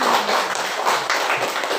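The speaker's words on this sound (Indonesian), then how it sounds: "tepuk tangan semua untuk semuanya" A classroom of students clapping together for everyone, a steady dense patter of many hands at moderate loudness with no talking over it.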